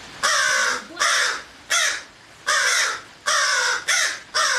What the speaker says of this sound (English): In case you were wondering what concerned crows sound like.